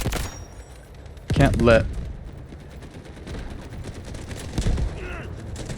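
Gunfire in the shooter game Delta Force, with bursts of rapid automatic shots layered under a player talking, heavier around the middle and again near the end.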